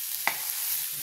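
Green chillies frying in a pan for mirchi masala, a steady soft sizzle with one brief stir or scrape, no talking.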